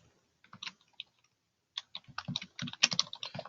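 Someone types on a computer keyboard, quiet scattered taps that quicken into a brisk run of clicks, with no one speaking.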